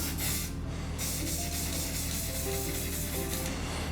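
Short hissing bursts of mist from a spray paint can, several close spurts with brief pauses between them over a low steady background.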